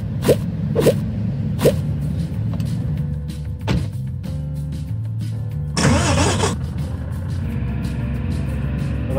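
Car arriving and parking at the store in Game Store Simulator, a steady idling engine with a few sharp clicks, then a brief whirring burst like a door or window mechanism, moderately loud, no talk.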